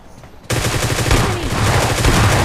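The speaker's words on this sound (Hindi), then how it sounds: "दूर से भी गोलियां चल रही थी" Rapid gunfire erupts suddenly in PUBG Lite and continues as a loud, dense barrage of shots with distant fire layered underneath, sounding like a video game.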